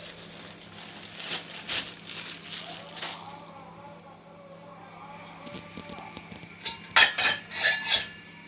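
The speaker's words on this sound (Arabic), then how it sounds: "وهنحط معانا نص الكيس العدس ده" Dry grains rattle and patter as they pour from a crinkling plastic bag, in a few uneven bursts with clinks of a pot nearby.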